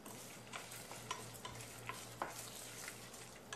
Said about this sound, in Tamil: இது எல்லாமே நல்லா வறுபடட்டும்.